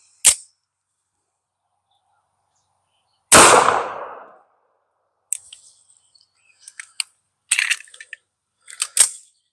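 A single 10mm pistol shot from an MC1911 Hunter fired into water jugs outdoors, a sharp loud crack with a brief ringing tail, followed by a few faint clicks and light metallic handling sounds.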